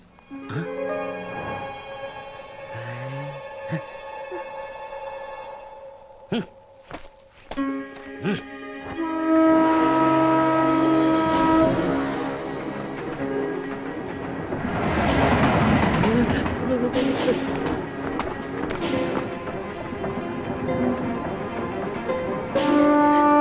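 A train pulling away from a station, with a loud horn blast, rumbling wheels and clattering carriages building over time, joined by swelling music and background voices.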